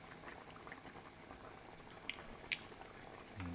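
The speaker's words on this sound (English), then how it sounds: "You can hear that bubbling probably." Lamb hotpot stock with carrots, thyme and vegetable stock pots bubbles gently in a pot, a soft, steady simmer with a couple of brief sharper pops.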